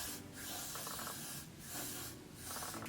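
Spray bursts applied to a curly wig during installation: three separate hissing pulses, close and fairly soft, evenly spaced with quiet gaps between.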